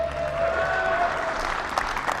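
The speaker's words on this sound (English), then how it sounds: "to the applause of workers at Pfizer's Michigan vaccine plant" Workers applaud at Pfizer's Michigan vaccine plant, a steady wash of clapping through the whole stretch with a faint tone running beneath it.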